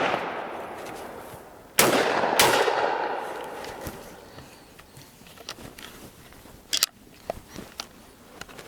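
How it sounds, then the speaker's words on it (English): A used shotgun fires high brass shells out over an open field: two sharp, loud blasts in quick succession, each trailing into a long, fading outdoor echo, followed by quieter clicks and handling noise. "I'm just shooting out into the open just to get some shots here"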